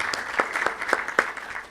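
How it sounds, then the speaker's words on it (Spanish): An audience claps in welcome for the speaker Dr Fabricio Vázquez. The applause is steady and moderately loud, with distinct individual claps standing out from the crowd. "me acompañan con un aplauso para recibir a nuestro primer expositor"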